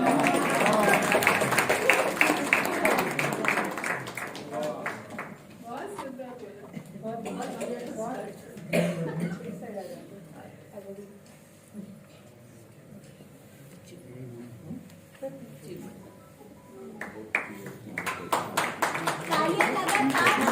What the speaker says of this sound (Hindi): तालियां लगातार